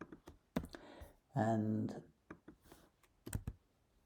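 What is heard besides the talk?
typing on a computer keyboard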